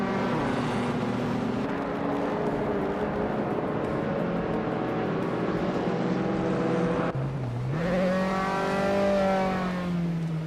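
Race cars in a racing video game overtaking one another, steady loud engine drone with gear-shift drops and a rising rev as another car closes in, continuous throughout and without speech.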